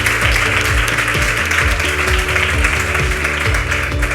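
Applause from an audience at a presentation, a continuous wash of clapping that goes on over upbeat background music, fairly loud and steady.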